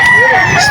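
A stag rooster crows at the Bocaue poultry market in Bulacan, one loud, close, sustained call filling the whole brief moment.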